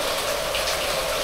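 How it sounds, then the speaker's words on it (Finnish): Heavy tropical rain pours down in Thailand, a dense, continuous hiss of falling water with splashing and no breaks, loud and close. "Sen verran paljon tulee tuota vettä."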